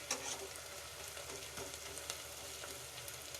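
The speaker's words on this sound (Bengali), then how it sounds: "তারপর আদা কুচি, রসুন কুচি দিয়ে দিলাম, তেলে ভেজে নিচ্ছি।" Chopped onion, ginger and garlic fry in hot oil in a pan for chicken pasta, giving a steady, faint crackling sizzle with scattered pops throughout and no talking.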